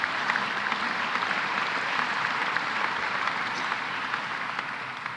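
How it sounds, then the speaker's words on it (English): Audience applause after a speaker introduces Stephen Rubenstein at a CUNY event with New York's governor, a dense, steady wash of clapping filling the room for several seconds without pause. "let's give Stephen Rubenstein a big round of applause"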